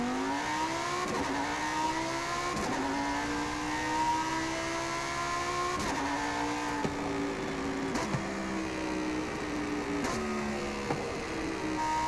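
A Lamborghini Super Trofeo race car's V10 revs hard in the racing game Forza Horizon 5, a loud, raspy engine climbing through repeated upshifts with brief drops between gears, steady and alone with no talking.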